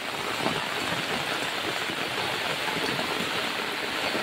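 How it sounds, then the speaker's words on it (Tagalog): Steady, dense hiss of heavy rain pouring without a break in a botanical garden in Singapore, loud and close. "Hindi na kami makapagsalita kasi ang lakas ng ulan."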